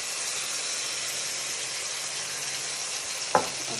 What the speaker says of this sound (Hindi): गोश्त को आपने अच्छे से फ्राई करना है।